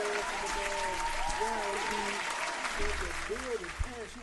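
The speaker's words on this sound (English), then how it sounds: "So we got to clap it up, man, for the man." An audience claps steadily throughout, a dense wash of applause running under voices that talk over it in a casual show setting.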